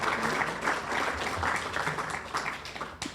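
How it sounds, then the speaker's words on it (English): An audience applauds speakers at a Tiger Bay of Manatee luncheon on animal welfare in Manatee County, with steady, dense clapping from a roomful of people that fades slightly near the end. "please give a round of applause to our speakers who came out to answer these hard questions"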